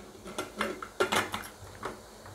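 Clanking metal of a pressure cooker lid being set on and locked, several sharp knocks and scrapes in close succession, near and moderately loud.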